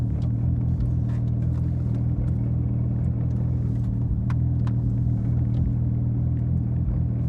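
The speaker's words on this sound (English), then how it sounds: "The only noise I currently hear is like that rattle, and the exhaust, obviously" A Porsche GT3 RS exhaust rumbles steadily up close for several seconds, with a faint metallic clutch rattle ticking underneath the low drone.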